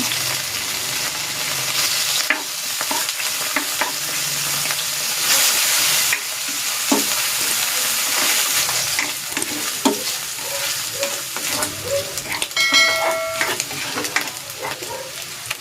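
A slice of ham frying in cooking oil, a strong continuous sizzle and crackle with intermittent stirring and scraping of a utensil in the pan, close and fairly loud throughout.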